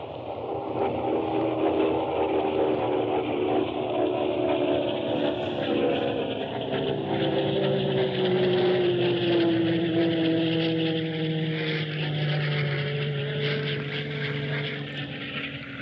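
A Hawker Typhoon flies over the South Devon coast near Salcombe and Bolt Head with a steady, loud propeller-engine drone that holds for the whole stretch, its pitch slowly shifting as the aircraft turns.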